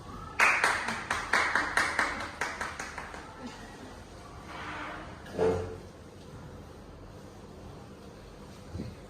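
Audience at a school awards ceremony claps for award-winning students, a burst of rapid clapping in the first few seconds that thins and fades out, followed by quieter room noise and a few stray sounds.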